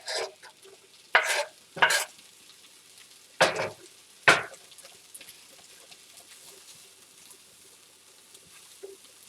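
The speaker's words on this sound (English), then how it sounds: "you're gonna add your ham that we already cut and add that directly to the pan" Diced ham tossed into a hot pan, a few sharp bursts of sizzle and clatter as it lands and gets moved, then a quiet low frying hiss carrying on alone.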